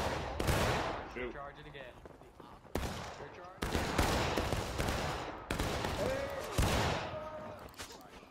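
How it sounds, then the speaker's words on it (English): Black-powder musket gunfire in the Civil War video game War of Rights, loud repeated shots and volleys with echoing tails overlapping one another; a voice also speaks amid the firing. "I shot a man. I definitely shot a man."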